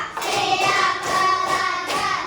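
A class of young children clapping a tepuk 1, 2, 3 rhythm pattern in a primary school classroom, several bursts of hand claps in quick rhythmic groups, close and fairly loud with no talk.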